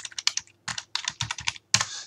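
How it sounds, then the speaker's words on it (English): Someone types on a computer keyboard at close range, entering medication orders: a quick, uneven run of crisp key clicks in short bursts separated by brief pauses, with no voices. "Typing it in."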